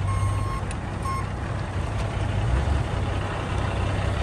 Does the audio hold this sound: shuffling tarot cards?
no